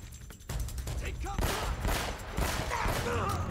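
Enemy gunfire in the game Uncharted: Drake's Fortune, rapid overlapping bursts of shots and ricochets in a sustained firefight, loud and close, with a voice heard briefly amid the shooting.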